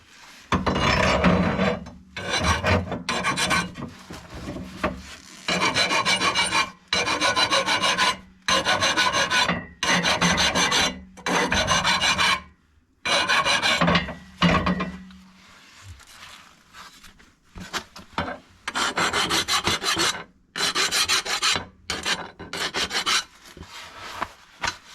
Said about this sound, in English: run a file over it